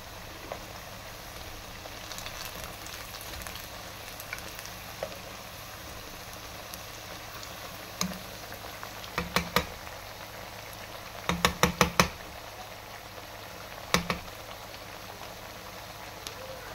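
Palak and aloo pakoras frying in hot oil, giving a steady soft bubbling sizzle throughout with a few louder crackling pops and clicks near the end; no one talks.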